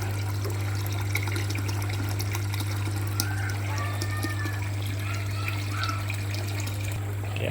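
Water pours and trickles steadily into an aquarium filter tank of a fish-farm recirculating system, a continuous close splashing wash over a constant low pump hum, with no voices.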